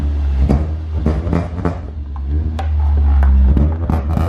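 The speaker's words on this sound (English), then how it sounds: "That's the sound of Irish rallying back 20 years ago." A Toyota AE86 rally car engine drones with a steady low-pitched rumble throughout, rising slightly in intensity toward the end, with scattered sharp knocks and clatters over the top.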